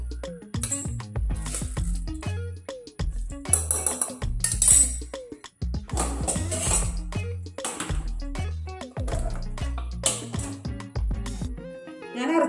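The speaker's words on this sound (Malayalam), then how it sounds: "പച്ചരി ഇട്ട് കൊടുക്കുന്നുണ്ട്." Raw rice grains pouring into a mixer grinder jar for ragi idli batter, a quick series of hard rattling, clinking patters and spills close by, with louder bursts around the middle and a brief pause near the halfway mark.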